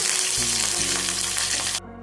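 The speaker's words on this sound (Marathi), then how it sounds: "आता कढईमध्ये तेल टाकून त्याच्यामध्ये जिरे टाकलेले आहे कढीपत्ता टाकायचा आहे" Cumin seeds and curry leaves sizzle in hot oil in a kadai, a loud, steady crackling fry that drops off sharply near the end.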